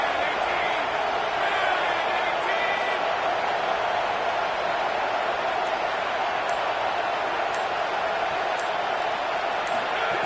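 A college football stadium crowd roars during a third-down defensive stand. The dense, steady wash of noise holds loud for about ten seconds, with a commentator speaking over it.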